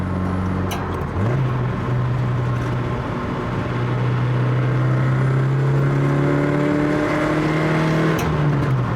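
A 1975 Toyota Corolla KE35 engine revs hard from inside the car, its steady climbing drone dropping sharply at a gear change before rising again, loud and continuous with no talk.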